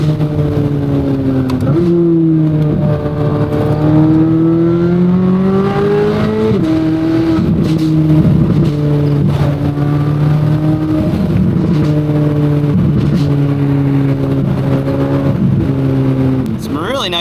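Corvette C8 Z06 engine revving on the move, heard from inside the car: a loud, continuous drone that rises and shifts pitch through several gear changes, with scattered sharp exhaust cracks and someone talking over it throughout.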